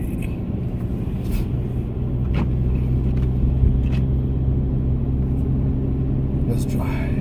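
A rear-wheel-drive Genesis Coupe drives slowly through a snowy blizzard on the New York State Thruway, a steady low engine and road rumble inside the cabin, with faint ticks and brief whispery sounds over it.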